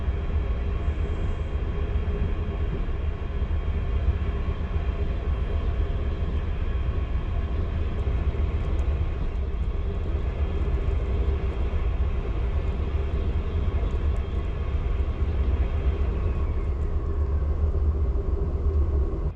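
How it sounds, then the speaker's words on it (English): An Amtrak Lake Shore Limited passenger train rolls toward the Berkshire Mountains of western Massachusetts, heard from inside as a constant deep rumble and rattle of wheels on track, with no voices. "The train gets more rolling as we head into the Berkshire Mountains of western Massachusetts."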